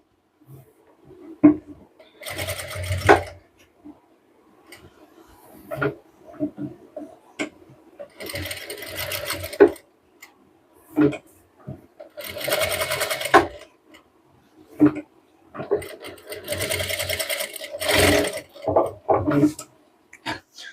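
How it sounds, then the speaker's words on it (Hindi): Sewing machine stitching a shirt sleeve cuff, running in repeated bursts of rapid mechanical whirring separated by short pauses, with a faint voice speaking between the runs. "लब की सिलाई से इसको हम पक्का कर लेंगे इस तरह से"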